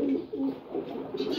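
A silver gorra pigeon pair coos close by in a short burst of low, throaty, repeated coos.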